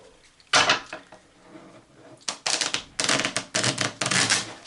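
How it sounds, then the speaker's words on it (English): A deck of cards being shuffled by hand in a traditional riffle shuffle, with a burst of rapid flicking and then several quick riffles in a row. The shuffling is close and crisp, and no one talks. "Traditional shuffle."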